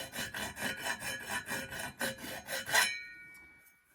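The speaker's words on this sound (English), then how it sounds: "it's kind of hard to get the file in and out" Hand file rasping against an outboard jet pump part: about ten steady back-and-forth strokes close up, then the scraping stops and a faint ringing tail fades away.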